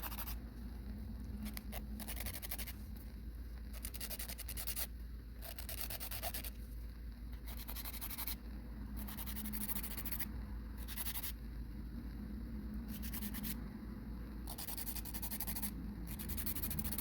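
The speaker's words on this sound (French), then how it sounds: "je vais tout simplement aller limer la structure que je veux faire, la forme que je veux" A sculpted gel nail is filed by hand in steady back-and-forth rasping strokes, close and fairly quiet, repeating in short even bursts without talk.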